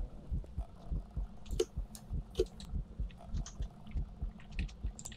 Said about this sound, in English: I got a heartbeat too